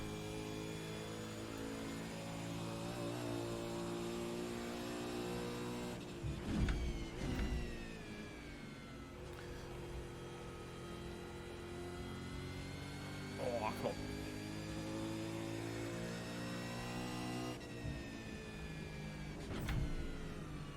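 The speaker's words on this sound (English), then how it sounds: "At least this car sounds good." Racing car engine in iRacing at Bathurst, a strong sustained harmonic drone that shifts pitch with gear changes and occasional sharp downshift blips and rises, steady and fairly loud, with someone talking over it.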